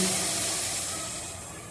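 Water boiling in a pot for masala tea gives off a soft, steady hiss that fades slightly over a couple of seconds. No voices.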